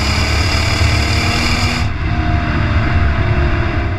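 Hyundai Genesis Coupe R-Spec engine after a downshift, a loud, steady low engine drone with exhaust roar filling the cabin, the bright upper hiss cutting off abruptly midway while the deep engine note carries on.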